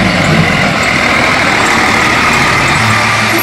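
A large garbage truck engine rumbles steadily and loudly nearby, a continuous diesel drone with no break in level and no speech over it.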